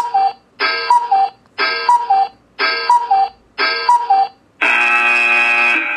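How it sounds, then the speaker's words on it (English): Five evenly spaced two-note cuckoo-clock calls sound one after another as a five-second countdown warning, followed by a loud, sustained electronic buzzer at zero. "the cuckoo clock that I have there is a warning to let them know"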